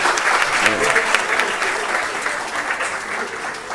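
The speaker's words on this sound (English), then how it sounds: "Please keep clapping as they" A room full of people claps continuously at a 2024 closing ceremony as an award is presented, a dense, sustained wash of applause with some voices mixed in.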